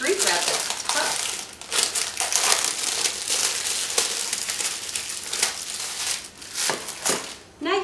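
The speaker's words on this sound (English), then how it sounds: "I'm just going to cut this, and off it comes. Shrink wrap is tough." Crinkling and tearing of tough plastic shrink wrap being cut and pulled off a box, a busy continuous rustle with sharper crackles, heard close up while a person talks over it.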